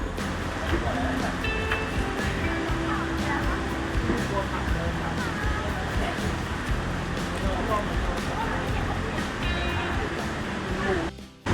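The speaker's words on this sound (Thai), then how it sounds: "นี่เสียงน้ำตกเลยทุกคน" Steady, dense rush of a waterfall beside a riverside campsite in Saraburi, Thailand, constant and fairly loud from start to finish.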